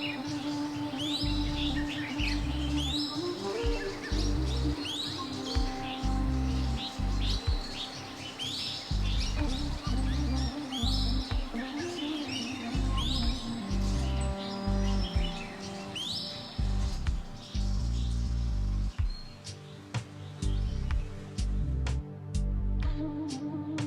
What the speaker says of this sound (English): Birdwatchers will be delighted by the sound of birds